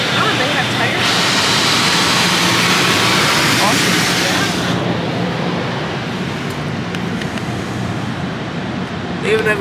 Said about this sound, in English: And I love their tunnel of blow dryers.